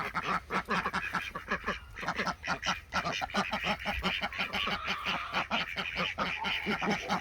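A flock of eleven ducks, kept in a Florida food forest, quack loudly and continuously in rapid overlapping bursts close by, with no talking.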